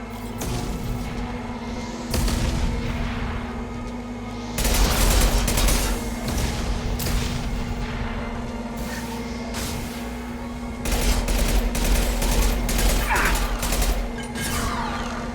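Continuous rapid gunfire in a Mass Effect 2 battle, loud and close, with dense automatic bursts and heavier booming surges over a steady droning hum.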